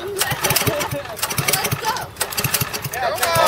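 Nitrous oxide mini bike engine running near and loud, a steady rough mechanical chug with pulsing beats throughout, while people talk over it outdoors.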